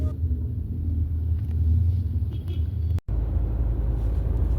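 Inside a hired car crawling through heavy Bangkok traffic toward the airport, a steady low road and engine rumble runs throughout with faint wind noise, cut by one brief dropout partway through.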